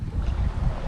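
A sailboat sails under wind alone with the engine cut, making about 4.5 to 5 knots toward Catalina, giving a steady rush of wind and water with low rumbling wash and no talk.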